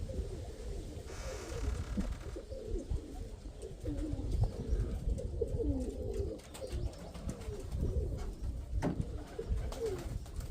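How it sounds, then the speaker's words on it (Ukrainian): Repeated soft pigeon coos close by, layered over a steady low background rumble, with a few faint chirps scattered through. "опасний голуб, кстати"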